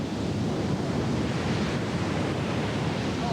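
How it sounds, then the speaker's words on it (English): Strong wind and pounding surf from Hurricane Bertha along the coast south of Wilmington, a loud, steady, unbroken roar of rushing air and crashing water with no voices. "A lot of wind right now, really intensifying."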